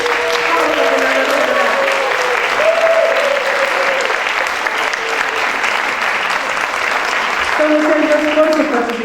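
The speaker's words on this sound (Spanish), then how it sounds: "les voy a pedir un fuerte aplauso para Ricardo Nurko Havnoson," Dense, loud applause fills the hall from an audience at an international colloquium on critical cartographies at UNAM's architecture faculty, steady throughout with a few voices calling out over the clapping.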